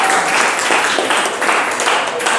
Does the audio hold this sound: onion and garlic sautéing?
no